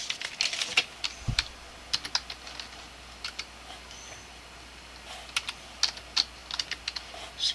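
Fingers type on a computer keyboard in irregular bursts of close, crisp key clicks separated by short pauses, with a faint steady background hum and no talking.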